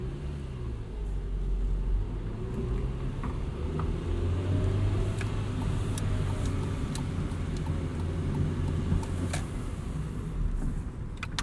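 A 1999 Honda Civic Si driving, with a steady engine and road rumble and a faint gearbox whine running under it, plus occasional light ticks inside the cabin.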